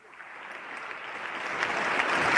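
Applause fills the chamber during the 2014 State of the Union address, a broad, distant wash of clapping that swells steadily louder.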